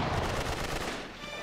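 Gunfire in the video game Uncharted 3 rattles off in a quick rapid burst of several shots, moderately faint and muffled.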